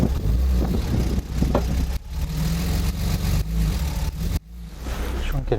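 A car engine revving hard as the wheels slip and spin in mud, a loud droning roar with surges and a brief dip, while someone speaks over it.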